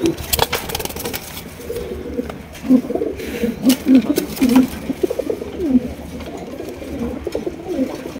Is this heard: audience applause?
no